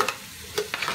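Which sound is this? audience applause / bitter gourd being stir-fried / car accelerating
bitter gourd being stir-fried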